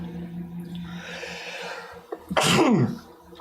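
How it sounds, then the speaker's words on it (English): After a low murmur of background noise, one loud, sharp sneeze bursts out close by and then trails off quickly. "I feel like I've been wanting to sneeze all day."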